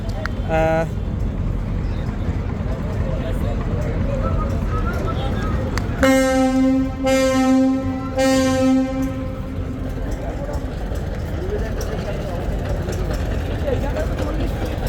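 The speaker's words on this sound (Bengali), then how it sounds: "তো ঢাকা থেকে বরিশালের উদ্দেশ্যে ছেড়ে যাচ্ছে এমভি মানামি লঞ্চ" Passenger launch MV Manami sounds its horn while departing Dhaka's Sadarghat terminal for Barisal at night: two or three loud, sustained harmonic blasts over constant crowd and waterfront noise.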